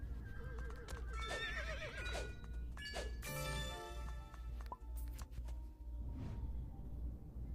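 Repeated whinnies and neighs from horses in a horse-riding video game, several calls spread over the clip with hoof clip-clop underneath, fairly close and clear with no talking.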